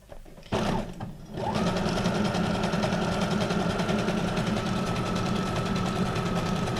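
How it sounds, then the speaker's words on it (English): A Brother SQ9185 computerized sewing machine runs steadily, a fast continuous mechanical whir with rapid stitching rhythm, starting after a brief pause and holding loud and close. "now here we go again with number 24 on the SQ9185 Brother Computerized Sewing Machine"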